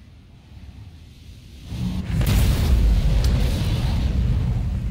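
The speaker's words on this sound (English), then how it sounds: "we are shooting two size 9 torpedoes" Two size 9 torpedoes launched in a naval game and striking a target: a low rumble swells into a heavy, booming explosion that holds as a loud, sustained roar to the end, with no talking.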